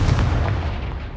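A Confringo blast spell goes off in the Hogwarts Legacy video game as a deep, booming explosion with a low rumble that fills the short moment and fades slightly, with no talk.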